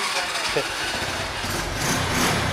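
A motorbike engine started with the self-starter, idling steadily and close by with a continuous low rumble throughout.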